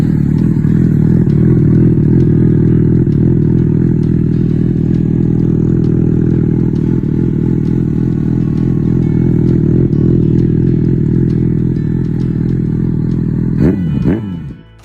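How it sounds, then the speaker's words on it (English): A Yamaha FZ6/FZ600 motorcycle exhaust holds a loud, steady low drone close by. Near the end it breaks into a short rising rev and a clatter, then cuts off. "This is the sound of the exhaust in Yamaha"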